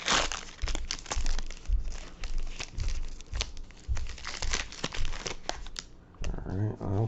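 A foil trading card pack crinkles and tears in close, repeated sharp bursts of rustling over several seconds, ending with a little handling.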